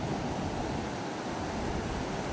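Sea waves at Dagupan beach in the Philippines, a continuous broad roar of surf mixed with wind rumble, steady and fairly close, with no voices.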